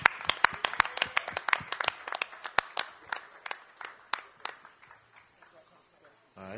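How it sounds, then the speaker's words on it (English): An audience at an A3C 2012 panel claps for Just Blaze, with sharp scattered hand claps that thin out and fade over a few seconds, ending near silence. "Clap it up for Just Blaze, y'all."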